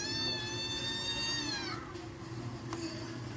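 One long, plaintive cat meow slides downward and fades, followed by quieter background noise and a faint tap.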